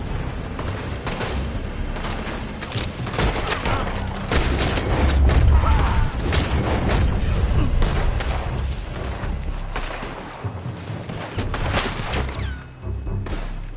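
Gunfire echoes around a building in Red Dead Redemption 2: dense, overlapping shots and booms run almost continuously with game noise and shouting voices mixed in.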